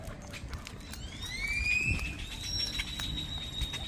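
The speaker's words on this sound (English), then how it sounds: "A lot of birds." Birds chirp and whistle in rising tonal calls along a tree-lined street in Floresta, clear over steady low street rumble with no talking.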